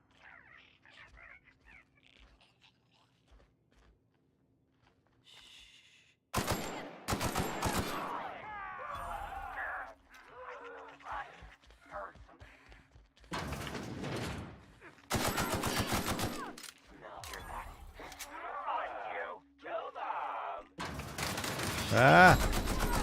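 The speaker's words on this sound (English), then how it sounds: "I think we stick with the assault rifle" Assault rifle fire in The Outer Worlds comes in several loud bursts of rapid shots separated by quieter gaps, with someone talking faintly in the quiet stretch before the shooting starts.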